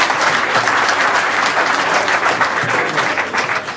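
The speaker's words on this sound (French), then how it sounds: "on ne peut que les applaudir" Audience applause for rally champions at a 1993 Chamonix event, a dense, loud, continuous clapping from a large crowd sustained over several seconds with no voices on top.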